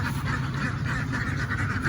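Ducks quacking steadily in a dense, continuous chorus in a duck pen during egg collecting, close and fairly loud, over a low rumbling background.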